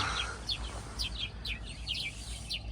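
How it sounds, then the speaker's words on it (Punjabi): A small bird perched on a branch in Botswana wildlife gives repeated short, high chirps about twice a second, fairly clear over a steady low outdoor rumble. "ਆਹ ਬਰਮੀ ਦੇ ਉੱਤੇ ਜਿਹੜੀ ਚਿੜੀ ਬੈਠੀ ਉਹਦੀ ਆਵਾਜ਼ ਹੈ"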